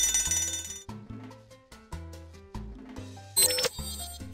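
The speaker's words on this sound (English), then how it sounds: "The fire alarm is triggered." Fire alarm in the video game Saucy Devil Gordon 2, a bright electronic ringing set against steady plucked game music, with a louder burst of shrill ringing near the end.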